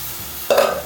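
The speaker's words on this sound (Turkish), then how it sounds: "Şimdi içine soğuk sütümü boşaltıyorum." Cold milk poured into a hot flour roux for béchamel sauce sets off a sudden burst of hissing bubbling after a quiet moment, close and brief, with no speech.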